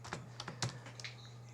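Typing on a computer keyboard: a run of irregular, close keystrokes, some clacks sharper than others, over a steady low electrical hum.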